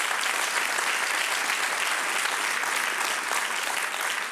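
Sustained audience applause at a live talk event, dense steady clapping from a large crowd filling the whole stretch without voices on top.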